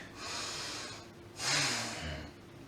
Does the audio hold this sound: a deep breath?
yes